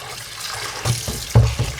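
Farm chicken pieces are rinsed in a vessel of water, making a few brief, close sloshing splashes.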